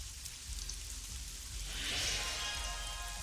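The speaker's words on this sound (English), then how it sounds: "I won't be able to stop the rain like this" Steady rain falls in the video game Sacred 2, an even hissing wash with soft patter that swells slightly midway, no voices present.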